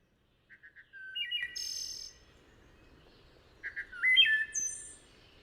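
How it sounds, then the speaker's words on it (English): Wood thrush song in a quiet natural setting: a few short opening notes followed by fluted phrases and a higher trill, repeated twice with a pause between, clear and moderately near over faint insect or frog background. "Wood thrushes have a particularly beautiful song."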